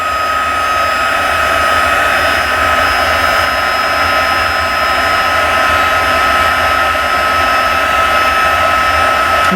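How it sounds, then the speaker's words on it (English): Handheld heat tool blowing on its high setting for heat-set embossing a card, a loud, steady whooshing hiss with a high whine, very close and uninterrupted, no talking. "We have 2 speeds on our heat tool, 1 and 2, 1 being low, 2 being your highest setting."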